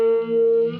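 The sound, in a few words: guitar held note through a univibe effect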